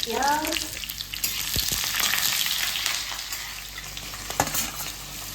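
Onions frying in a pan after ginger-garlic paste is added, a loud continuous sizzle with a few sharp clinks and scrapes of a spoon stirring against the pan, no talking.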